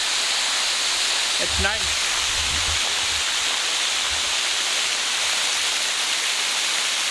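A steady, dense roar of the highest waterfall in Mizoram, India, rushes continuously in the background while a person briefly speaks.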